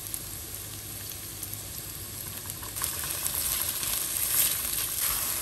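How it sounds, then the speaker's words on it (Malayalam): Onions sizzling in hot oil with curry leaves and green chilli in a pan, a steady close frying hiss that swells slightly toward the end, with no talk over it. "അതിന് ശേഷം ഓണിയൻ നമുക്ക് ഇട്ട് കൊടുക്കാം"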